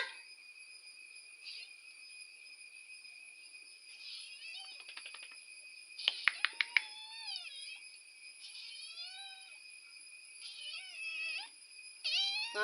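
A cat gives several short, wavering meows in a quiet setting, with soft voices talking intermittently and a steady high electronic whine in the background.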